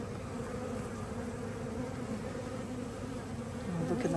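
Honey bees in a hive that overheated in southern Arizona give off a continuous, even buzzing drone at close range, with no voices.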